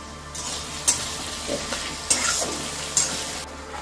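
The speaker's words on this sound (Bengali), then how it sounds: "পেঁয়াজগুলো আদা ভাজা হয়ে গেছে" Onions and ginger fry in oil in a pan, a steady close sizzle broken by a few sharp stirring scrapes, with no voices.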